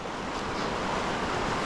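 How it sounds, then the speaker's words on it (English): River water rushing over riffles on a trout stream near Jim Thorpe, Pennsylvania, a steady broadband wash with some wind noise on the microphone, continuous and close, no voices. "Got a nice little set of riffles,"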